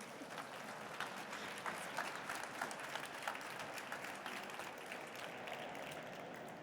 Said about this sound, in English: Please give the panel a warm round of applause